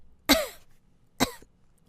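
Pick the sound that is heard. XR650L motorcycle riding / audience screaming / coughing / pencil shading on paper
coughing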